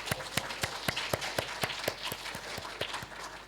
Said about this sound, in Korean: 우리 다 같이 박수로 환영하겠습니다.